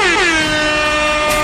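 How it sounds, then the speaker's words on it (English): A loud, blaring air horn sound effect blasts continuously for about a second and a half, a harsh held tone, close and alone with no speech. "I don't know why that air horn is so much louder than everything else"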